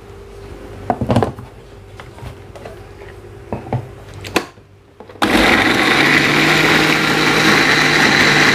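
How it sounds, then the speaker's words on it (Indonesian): An electric blender grinds shallots, garlic, ginger, turmeric and candlenuts with a little water, starting abruptly after a few clicks and knocks and then running as a loud, steady whir. "saya akan haluskan dulu bumbu untuk kare tahu telur ini"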